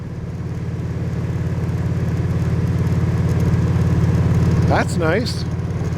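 Steady low engine drone from a motorcycle being ridden along a rural rustic road, with harmonic hum and wind rush throughout; a voice speaks briefly near the end over the engine.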